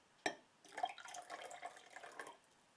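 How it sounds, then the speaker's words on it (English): Red cabbage indicator liquid is poured into a sodium bicarbonate solution, making a quiet splash and then a soft, trickling stream for a couple of seconds. "So let's add it first to the sodium bicarbonate solution."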